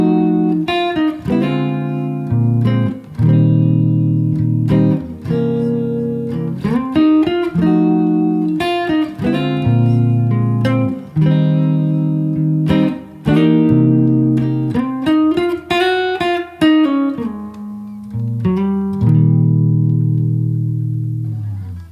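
Solo jazz guitar chord melody of a blues standard, with full ringing chords and single-note runs played at a steady, relaxed pace, close and clear with no talking.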